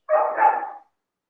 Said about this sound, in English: my dog is noisy. I don't know if you can hear my dog.